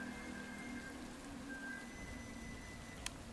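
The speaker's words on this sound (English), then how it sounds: "The rain's already back" Steady rain hisses evenly within a video game scene, a soft constant wash with a faint tonal hum beneath and one brief sharp tick near the end, no talk.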